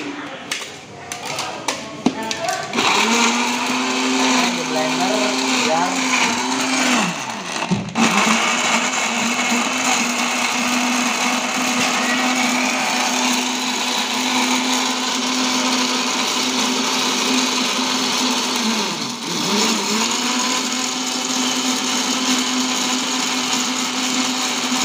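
A kitchen blender runs loud and steady, whirring through red guava pieces for homemade guava juice, with a brief stop and restart early on and a dip in pitch midway before it settles back to a constant drone.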